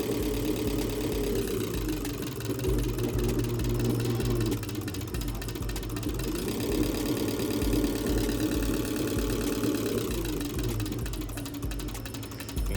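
A car engine runs at idle, then the revs rise and fall in slow swells, a steady, close mechanical drone with no voices.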